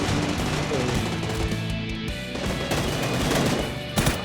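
Gunfire in the PUBG video game, with dense rapid bursts of automatic shots that form a loud, continuous crackle heard close up throughout.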